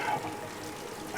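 Waterfall at Crichope Linn, a wooded gorge, heard as a soft, steady rushing pour with faint trickling, fairly quiet and constant, with no voices.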